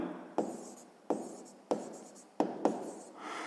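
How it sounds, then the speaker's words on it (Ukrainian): Pen or chalk strokes scratch out a math equation during a sixth-grade lesson, five bursts of writing in steady succession, fairly close and quiet with no talking. "Запишемо, ну нехай тоді Яся отримала x балів"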